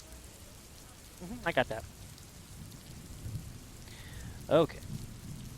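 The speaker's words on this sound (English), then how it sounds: "Is the rain too loud, or do I need to turn that down?" Steady rain plays in the background of a live stream, a constant soft wash under a few brief spoken words.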